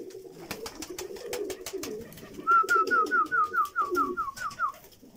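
Pigeons cooing in a repeated, rhythmic series of soft calls, close and clear, with a faint low murmur of other birds underneath.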